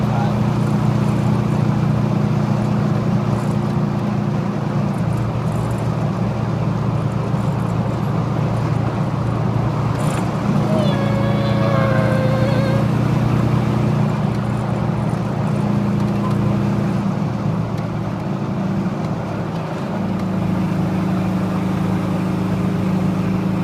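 A steady engine drone and road rumble from a car cruising at about 55 to 60 mph on a road through an Adirondack preserve, continuous and close, with brief faint chirps partway through.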